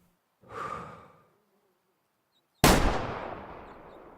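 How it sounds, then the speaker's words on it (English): A single sharp rifle shot in the hunting game Way of the Hunter, fired at an animal through a tree, loud and sudden with a long fading echo, preceded by a soft exhaled breath. "We can do something silly and try to shoot him through the tree."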